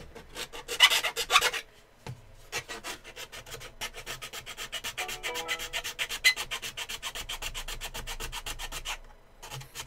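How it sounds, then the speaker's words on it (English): A hand file rasps against a workpiece in quick, even back-and-forth strokes. The scraping is close and moderately quiet, with one denser burst of strokes early on, and no voices. "Hand files are your friends, people. It's so much easier than working with sandpaper half the time."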